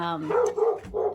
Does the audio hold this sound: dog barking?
yes